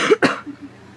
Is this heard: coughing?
yes